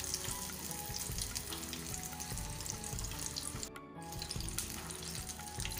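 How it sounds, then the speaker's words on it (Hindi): Chicken pieces frying over a low flame in a pan, a continuous moderate sizzle with some watery bubbling, a brief dip in the noise near the end, no speech. "चिकन अच्छे से फ्राई हो गई है"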